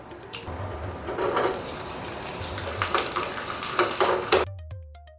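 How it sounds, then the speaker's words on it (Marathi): Steady sizzling and crackling of dry fruits frying in hot ghee, close and fairly loud, cutting off abruptly near the end. "आपण ड्रायफ्रूट थोडेसे फ्राय करून घेऊया तुपात"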